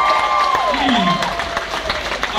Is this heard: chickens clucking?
no